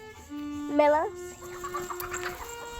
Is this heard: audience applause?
no